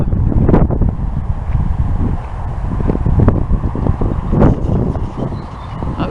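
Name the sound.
wind blowing on microphone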